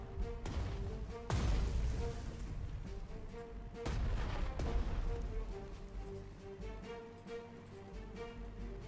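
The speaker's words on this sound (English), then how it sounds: "Just move forward, keep shelling." Artillery shelling in the Panzer Strategy war game set in the Spanish Civil War, with dense booming blasts and rumbling impacts over a steady game soundtrack, several heavy hits standing out among continuous low thunder.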